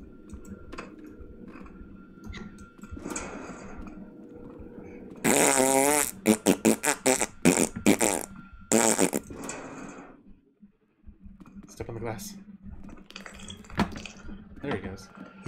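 Loud cartoonish fart noises burst out in a rapid string as a trap sound in a horror classroom video game, layered over clattering game effects and a voice talking over them.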